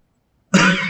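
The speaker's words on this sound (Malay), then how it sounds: "Serta merta batuk." A single sudden, loud cough from a man breaks a moment of silence and carries on into a rough, throaty burst.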